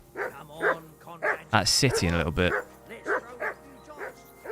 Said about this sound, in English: I assume you can hear that damn dog of yours barking.